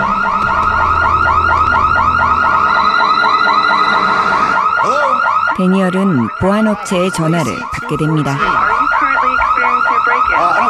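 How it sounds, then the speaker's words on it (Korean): A house security alarm blares with a loud, rapidly repeating electronic tone that carries on steadily before shifting into warbling siren-like sweeps, with a voice talking over it. "경보음이 울리고"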